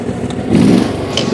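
An ISEKI SRA950FA ride-on brushcutter drives along cutting growth, its engine running at a steady low throttle with a coarse rumble and brief thrashing of vegetation, close by.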